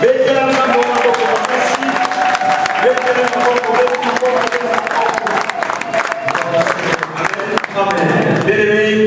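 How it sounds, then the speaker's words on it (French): A church congregation applauding and acclaiming, dense loud clapping with cheering and shouted voices overlapping throughout, close and sustained. "Est-ce que je peux entendre une acclamation qui va toucher?"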